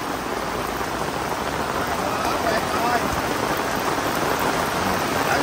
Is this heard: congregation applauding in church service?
no